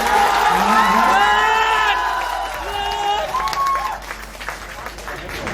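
Audience at a Bihar political meeting cheers and applauds, with whoops and raised voices rising over the crowd for a few seconds before the noise tapers off, talk running underneath.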